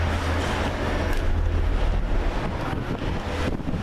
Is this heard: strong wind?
yes